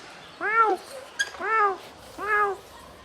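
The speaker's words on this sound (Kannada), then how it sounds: "ನೋಡಿ ಸ್ನೇಹಿತರೆ, ಕಾಡು ಬೆಕ್ಕಿನ ಹತ್ರ ಬಂದಿದ್ದೇವೆ" A wild cat at Bannerghatta Biological Park meows three times in drawn-out, wavering calls, close and clear against a quiet background, with a short sharp knock between the second and third cries.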